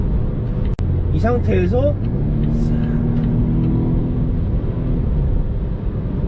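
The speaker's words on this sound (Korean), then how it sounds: "지금 이제 컴포트 모드로 달리다가 다이나믹 모드로 바꿨고요." A Volvo S60 drives in dynamic mode, its engine a low steady hum and road rumble beneath someone talking close up inside the cabin.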